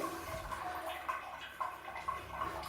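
Water running and trickling down a bathroom floor drain, quiet and close, with soft gurgles and small splashy surges at irregular moments and no speech.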